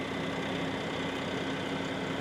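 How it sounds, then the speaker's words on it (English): A big tractor engine idling at a woodlot, a continuous low steady rumble with an even drone and no change in pace. "Got a big old tractor here on this one"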